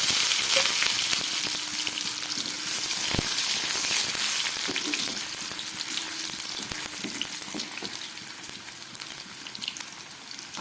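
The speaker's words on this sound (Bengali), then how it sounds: "কোপ্তা ভাজার তেলের মধ্যে এবার আমি দিয়ে দিচ্ছি কয়েক টুকরো আলু।" Potato pieces sizzle and fry steadily in leftover kofta oil for a vegetarian dish, a continuous close crackle with occasional clinks of a utensil and no voices.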